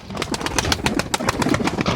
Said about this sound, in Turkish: şimdi güvercinler dışarıda